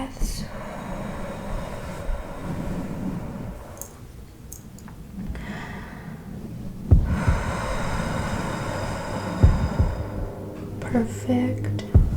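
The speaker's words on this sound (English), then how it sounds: "Deep breaths" Slow, deep breaths drawn in and let out close to the microphone in a soft ASMR nurse role-play, several long inhales and exhales with a few sharper clicks and taps between them.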